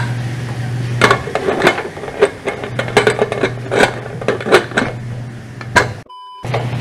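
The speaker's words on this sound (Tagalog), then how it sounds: "tatakpan natin siya sa pressure cooker" Metallic clanks and scrapes of a pressure cooker lid being fitted and locked, a series of sharp knocks over a low steady hum, close up.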